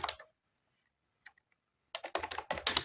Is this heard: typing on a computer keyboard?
yes